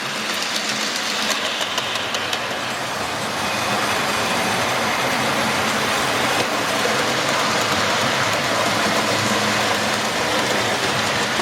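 A Dapol class N2 model locomotive hauling a heavy train on a model railway layout, a steady, fairly loud mechanical whirr and rattle that runs continuously without voices.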